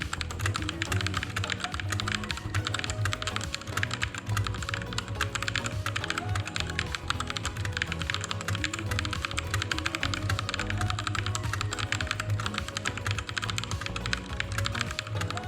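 Fast, continuous typing on a Digital Alliance Mecha Fighter S mechanical keyboard, heard close up as a dense stream of key clacks and thocks with no voices.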